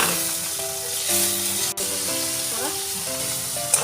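Ground spices with salt, turmeric, coriander, cumin and chilli powder plus a few green chillies frying in a pan for a pumpkin curry, a steady close sizzle with a tonal hum running through and no talk.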